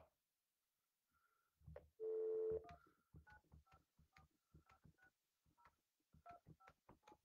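Telephone keypad tones ring out while a call is placed during a sports podcast: a short pause, one long steady tone, then a brisk run of distinct dialing beeps, clear and close with no speech.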